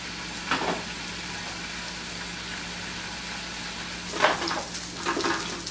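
A salmon fillet fries skin side down in a pan with olive oil. A steady, moderate sizzle continues throughout, with a few louder crackling bursts near the start and later on.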